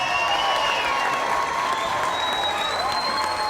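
Steady, dense applause from a crowd fills the whole stretch without pause, loud and continuous.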